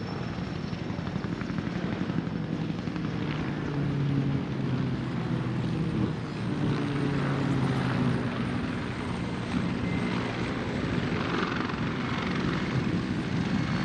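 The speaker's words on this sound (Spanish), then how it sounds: "Vean ustedes la aproximación del helicóptero que realizará la evacuación. Es un Twin Bell 212." A twin-engine Bell 212 helicopter approaches for an evacuation at a Peruvian Air Force Day ceremony, its rotor and engine making a loud, steady, continuous drone with no speech.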